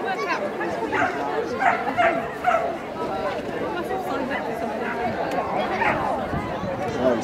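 Border collies, one of them three years old, bark, yip and whimper excitedly at a sheepdog sorting event, the barks repeated over constant crowd chatter and nearby voices.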